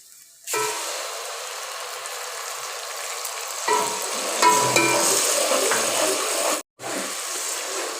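Garlic and tomatoes fry in a pan for zeera rice with masoor dal, a close, steady sizzle with stirring that swells partway through and stops briefly near the end.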